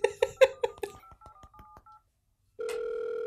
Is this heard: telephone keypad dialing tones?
yes